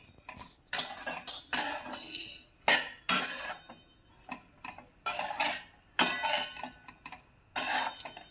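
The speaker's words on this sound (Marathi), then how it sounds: "2 वाट्या खोबरं हे आपण किसून घेतलेले आहे आणि ते भाजून घ्यायचं" Grated coconut dry-roasted in a pan for karanji filling, heard as a series of bright scraping, clinking bursts of a spoon working against the pan in an uneven rhythm, close and fairly quiet, with no talking.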